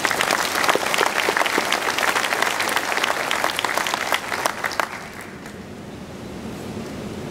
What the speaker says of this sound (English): A big round of applause for PGI, please.